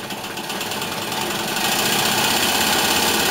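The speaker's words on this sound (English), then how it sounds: "I start the uh, steam engine." A one-cylinder steam engine driving a gypsy winch under load, giving a steady mechanical hum and rapid rhythmic chuffing that grows louder and more intense partway through, close and continuous.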